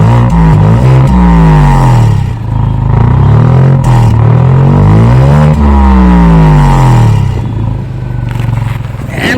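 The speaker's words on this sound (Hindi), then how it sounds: "अब जैसे मैं पीछे आ गया हूँ तो साथ ही साथ इसका मेन चीज़ आपको सुनाता हूँ, जो कि है एग्जॉस्ट।" A Tata Altroz Racer's exhaust blares loud and close as the engine revs up and falls back several times, with a raspy, buzzing tone over a deep rumble.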